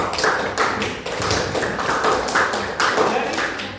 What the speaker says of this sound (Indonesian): Beri applause untuk kelompok 2